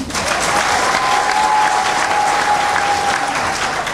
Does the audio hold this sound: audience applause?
yes